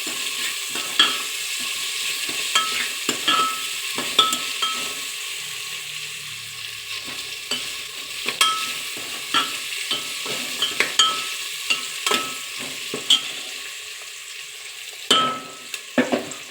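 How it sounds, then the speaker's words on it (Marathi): Chopped onion sautéing in a pan for a potato-and-pea masala rice, a steady soft sizzle broken by repeated sharp scrapes and taps of a spoon stirring against the pan, close by with no voices. "आता हा कांदा थोडासा गोल्डन ब्राऊन होईपर्यंत, म्हणजे त्याचा कच्चापणा जाईपर्यंत मी त्याला चांगला परतून घेणार आहे"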